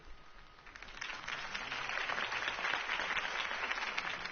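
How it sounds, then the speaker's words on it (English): Crowd applause after a campaign speech in a Batman video game, a faint, steady wash of clapping that swells slightly and holds, with no speech over it. "If only Mr. Wayne, my campaign's largest backer, could have heard that applause"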